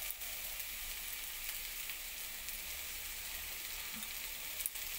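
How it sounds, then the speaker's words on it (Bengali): Onion frying together with half-fried potato and pointed gourd in a pan, a soft, steady hiss of sizzling oil with faint crackles throughout and no talk. "পেঁয়াজটা দিয়ে আলু পটলের সঙ্গে একসঙ্গে ভেজে নেব।"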